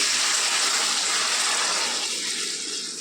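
Water gushes steadily into a pan with semolina for upma for a few seconds, then the pour eases off and fades toward the end.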